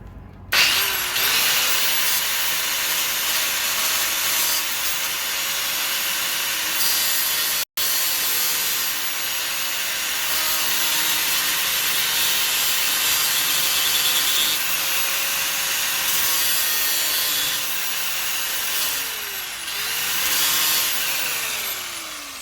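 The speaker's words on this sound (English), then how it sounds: "I'll grind it down until it's kind of start to separate" A power grinder cutting into a coilover part for an 05 Subaru Legacy, a loud continuous harsh grinding whine that runs for about twenty seconds with brief dips in pitch, no talk.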